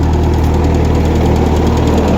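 An old, cheap tractor engine running just after starting, a loud close steady knocking idle with an even throbbing rumble and no pauses.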